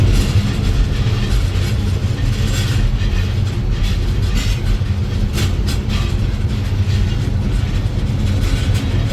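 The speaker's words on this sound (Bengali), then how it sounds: "এখনও যাওয়ার সময় যতগুলো ট্রেন যাচ্ছে সব ক্রসিং" Trains passing on a railway, loud and close, a continuous low rumble with rattling, rhythmic clatter from the wagons throughout.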